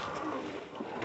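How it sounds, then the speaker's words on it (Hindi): Pigeons or doves cooing outdoors in a quiet rural spot far from roads and highway, soft continuous calls over a steady airy background hiss for about a second. "बस चिड़िया लोग का जो कुछ कुछ आवाज़ आ रहा है"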